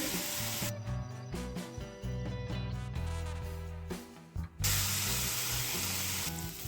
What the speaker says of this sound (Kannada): ಈಗ ನೀರುಳ್ಳಿ ಫ್ರೈ ಆಗಿದೆ